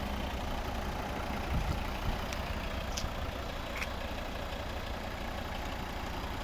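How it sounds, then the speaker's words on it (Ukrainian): A 2011 Volvo V60 2.0 D3 diesel engine idles with a steady, low, even hum throughout, with a few faint clicks and no voices. "Спеціально завів автомобіль, щоб було чути, як наскільки рівно тихо працює двигун"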